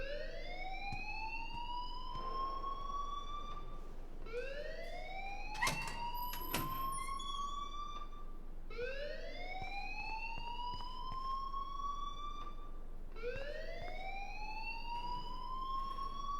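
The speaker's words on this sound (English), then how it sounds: "please turn off that alarm since that's your job" Electronic school alarm in Life is Strange rings out in a repeating rising wail, four evenly spaced sweeping tones with a faint tick-like clatter between, moderately loud and steady with no voices.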